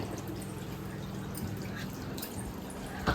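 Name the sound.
water running while washing up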